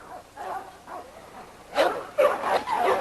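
Young pup Frankie barks in a yard, with a few soft yips followed by a louder burst of quick, close barks.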